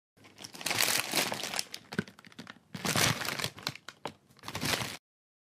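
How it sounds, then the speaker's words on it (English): Paper bag crinkled by hand in two bursts of loud, close crackling and rustling, separated by a short pause, then abrupt silence. "Paper bag."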